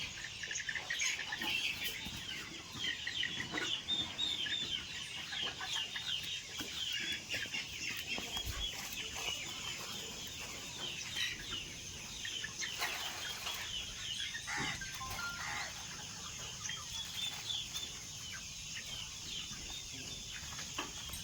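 A flock of chickens clucks and chirps continuously at a moderate distance, with occasional wing flaps amid a busy outdoor background.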